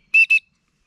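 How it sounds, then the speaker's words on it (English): An emergency whistle gives two sharp, piercing blasts in quick succession, loud and close, each cut short and then followed by silence. "your voice just doesn't travel as far as a really good blast on a whistle"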